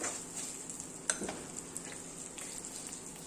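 Cashews, raisins and almonds roast in a generous amount of ghee for a mango dessert, giving a steady soft sizzle with a few sharper stirring clicks, close and alone without talk.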